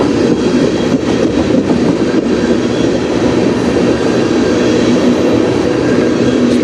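A train passes steadily on the Strathroy Subdivision, a loud, continuous low rumble and rolling wheel roar that stays close and sustained throughout, with no voices.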